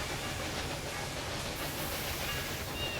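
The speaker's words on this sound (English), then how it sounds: "let's get our 12 mile an hour train going a little bit quicker" A train rolls along in the Railway Empire 2 railway game, a steady, continuous rumbling hiss of wheels and carriages on track with a faint clickety rhythm, heard alone throughout.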